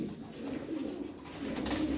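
Tumbler pigeons coo in their coop, a steady, close murmur of low throaty calls overlapping throughout, with no talking.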